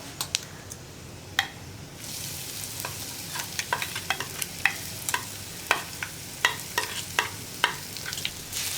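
Thick coconut paste sizzles gently in a pan while a spoon scrapes and taps against it at irregular intervals, close up.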